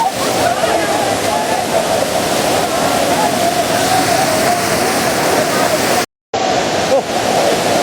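Cold water pours over slippery rocks in a forest waterfall, a loud, unbroken rushing roar close by, with a momentary gap before the steady flow returns.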